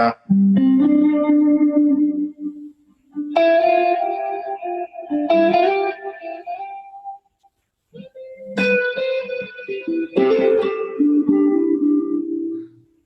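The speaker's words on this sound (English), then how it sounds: "But listen to this reverb here." Electric guitar chords ring out in bursts, drenched in a wet, washy reverb with shimmering tails, separated by short pauses.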